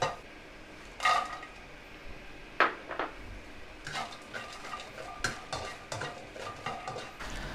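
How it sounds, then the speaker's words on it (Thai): Galangal, garlic and dried chilies are dry-roasted in a pan, with faint dry rustling and scraping as a utensil stirs and knocks against the metal in several sharper clatters, fairly quiet and close. "คั่วทั้งหมดเลยนะครับ ทั้ง ทั้ง ข่าทั้งกระเทียมทั้งชิกแห้งนะครับ คั่วให้แห้งๆเลย"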